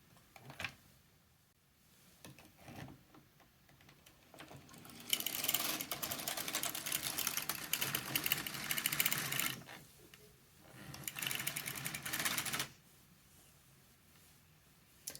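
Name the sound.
knitting machine knitting a row of yarn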